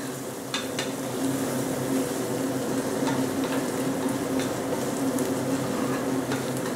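Ingredients for mutton biryani sauté in a hot pan with a steady, close sizzle, broken by a few sharp scrapes and clinks of a spoon stirring against the metal.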